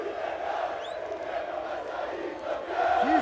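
Grêmio supporters in a football stadium after a win, a continuous roar of crowd chanting and cheering heard from within the stands, steady and moderately loud.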